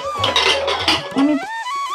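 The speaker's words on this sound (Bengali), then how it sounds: "এবার আমি কুকারটা দিয়ে আটকে দেব।" A metal pressure cooker lid is fitted and locked over salted kabuli chickpeas, producing a few close, ringing metallic clanks and scrapes in quick succession.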